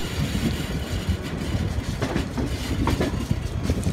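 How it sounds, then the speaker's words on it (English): On board the Pragati Express heading toward Mumbai, hauled by a WCAM2 electric locomotive; a steady loud rumble of the carriage with rhythmic wheel clatter and rail noise throughout, no voices. "We are actually on board on the Pragati Express, hauled by a WCAM2 locomotive, going towards Mumbai."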